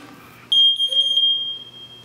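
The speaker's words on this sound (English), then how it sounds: "the noise that comes out of the smoke detector" A home smoke detector's test button is pressed, setting off a loud, piercing continuous alarm tone that starts abruptly and keeps sounding steadily, close by, with no talking over it.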